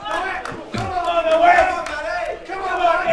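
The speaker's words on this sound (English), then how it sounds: "And WA crowd goes nuts." Crowd cheering and shouting at an Australian blackball pool quarterfinal, a loud burst of excited voices that rises and falls over a few seconds, with a commentator talking over it.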